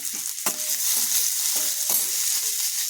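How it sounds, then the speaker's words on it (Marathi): Finely chopped onion and curry leaves hitting hot oil with mustard and cumin in a pan, giving a steady close sizzle with a few soft stirring scrapes. "बारीक चिरलेला कांदा टाकायचा आहे कढीपत्ता घालूया"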